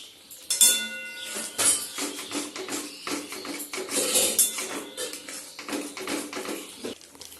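A spoon scrapes and clinks against a metal cooking pot while ginger-garlic paste and spices are stirred, with irregular clattering strokes and taps repeating close by.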